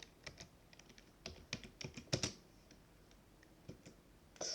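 Rapid keystrokes of code being typed on a computer keyboard, irregular clusters of crisp clicks close up with a louder burst midway, no talking.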